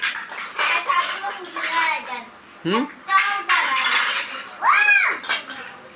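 Toy cooking pots and utensils clatter and knock as children play at home, in short bursts alongside a voice and an adult talking.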